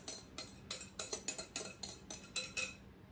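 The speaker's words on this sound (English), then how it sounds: "And you're going to mix that all up." A metal utensil clinks rhythmically against a bowl while mixing cake batter with cinnamon and nutmeg, about a dozen sharp, close taps at a steady pace with no voices.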